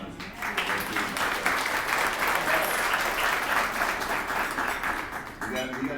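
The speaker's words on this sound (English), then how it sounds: "I want to give them a round of applause." Audience at a conference applauds the event staff, a dense, steady round of many hands clapping that stays loud throughout and tapers slightly near the end.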